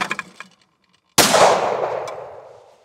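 A single loud shotgun blast at close range, fired at a clay target during grouse season prep, with a sharp crack that booms and decays over about a second and a half after a brief earlier report.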